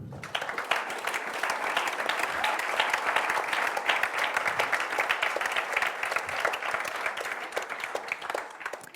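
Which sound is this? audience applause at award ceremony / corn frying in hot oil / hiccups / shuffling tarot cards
audience applause at award ceremony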